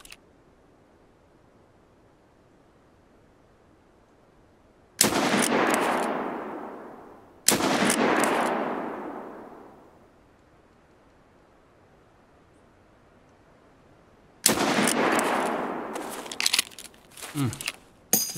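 Loud gunfire bursts in the shooter game Escape from Tarkov, three heavy blasts of firing spaced a few seconds apart with quiet gaps, followed by scattered smaller shots near the end.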